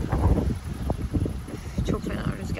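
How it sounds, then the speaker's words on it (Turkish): Strong gusty wind in a village vegetable garden in Zile, Tokat, Turkey buffets the microphone with loud, uneven rumbling. "çok fena rüzgar çıktı"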